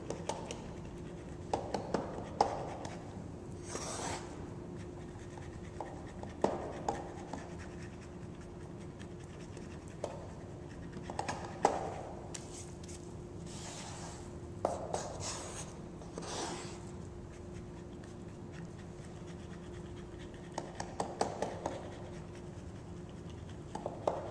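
A rice paddle cutting and folding sushi rice in a bowl makes soft, steady scraping and rubbing strokes, faint and repeated over a low background hiss.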